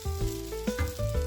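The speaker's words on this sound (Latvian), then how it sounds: "cepjam lēnītēm no vienas puses, no otras puses" Bread soaked in a lightly sugared egg-and-milk mixture fries slowly in a pan, giving a steady, close sizzle that continues throughout without any talking.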